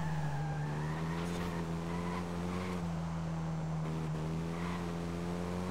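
A Hyundai i30N in Forza Horizon 5 drones at a steady engine pitch while cruising, a constant even hum with slight rises and faint tire noise.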